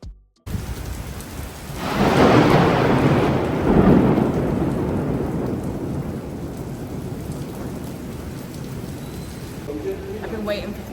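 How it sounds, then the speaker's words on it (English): Heavy rain pours steadily at KLCC Park in Kuala Lumpur while a loud roll of thunder swells and rumbles for a few seconds, then the downpour continues alone, with faint voices near the end. "I've been waiting for 3 hours for this rain to stop."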